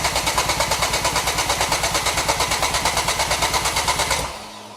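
A Mk2 Ford Focus RS engine cranks with a steady rhythmic whirring of the starter for about four seconds, then catches and settles into a low idle.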